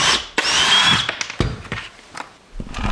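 Power drill whirring and straining against screws in a 1930s farmhouse floor, close and loud, with brief stops, clicks and knocks between runs.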